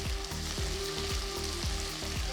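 Sliced tomatoes sizzling in a pan for a Chettinad onion curry, a brief, even frying hiss heard close and fairly quiet, with no voices.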